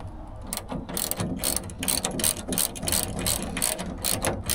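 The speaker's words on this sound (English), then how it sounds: "So now I can get my 13 mil ratchet and tighten this thing down." A 13 mm ratchet tightening a carriage bolt during tool cart assembly gives rapid repeated clicking bursts in quick strokes, close and loud, with no talking.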